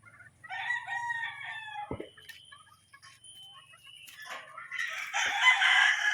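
A bullstag gamefowl rooster of the sweater line, a Dink pair from a Philippine game farm, crows loudly and close, a clear cock-a-doodle-doo followed by clucks and further crowing among other birds.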